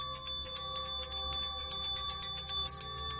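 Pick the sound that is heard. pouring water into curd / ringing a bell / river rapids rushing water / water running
ringing a bell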